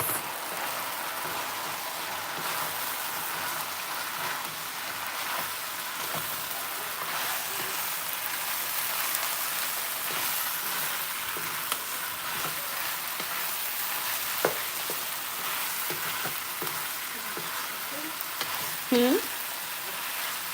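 Red and other peppers sizzle and crackle steadily in oil in a pan, a soft continuous frying hiss with occasional stirring clicks and a brief clatter near the end.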